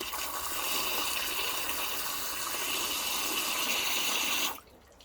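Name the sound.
water pouring out from a damp BMW soft top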